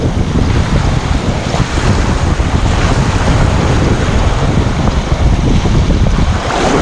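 Heavy surf pounds the beach at Seaside, Florida in high wind under red flag conditions, a loud continuous roar of breaking waves mixed with strong wind buffeting the microphone.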